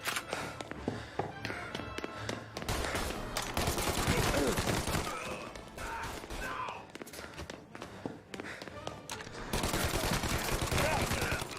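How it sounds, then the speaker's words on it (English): Dense gunfire from the PC game Mafia: Definitive Edition, rapid overlapping shots and thumps running continuously under game voices and ambient noise. "there was so much muzzle flash, I couldn't even tell if I was shooting them"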